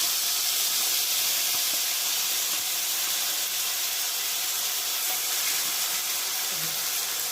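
Mustard and poppy seed paste hisses and sizzles steadily in a hot pan, a continuous bright spitting texture with no talk.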